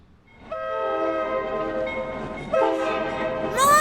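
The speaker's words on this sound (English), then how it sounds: "Mom! The train!" A passing train sounds its horn twice, loud, sustained chord-like blasts over a rumbling, rattling roll of railcars, with a bright squeal rising at the very end.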